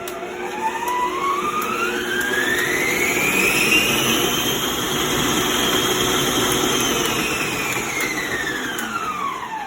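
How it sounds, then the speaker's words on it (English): An electric stand mixer runs at high speed through pound cake batter with a loud, steady whirring drone. Its pitch rises and then sags as the load changes, and no one speaks over it. "set my mixer down, and I'm going to start it off on the slow speed, and then I'm going to turn it up on the highest speed"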